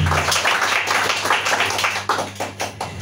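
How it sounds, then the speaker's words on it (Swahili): A church congregation claps for Jesus, with dense, steady hand claps filling the space and some irregular louder taps toward the end, heard close and fairly loud. "Pigia Yesu makofi. Bwana Yesu makofi."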